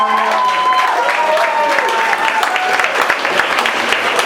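Steady applause from the audience at a Greenwich Village comedy club after a stand-up set, dense and sustained throughout, with voices and cheers mixed into the clapping.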